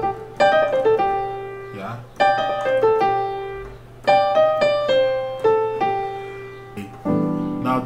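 A piano plays a fast descending blues lick in bursts of quick notes, repeated several times with short pauses, close and clear with no talk over it.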